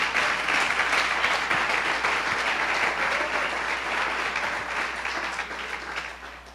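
A church congregation claps in praise, a dense, steady round of applause that holds for several seconds and then slowly tapers off toward the end.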